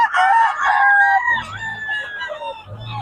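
Several roosters crow loudly and close, their long calls overlapping, followed by some clucking.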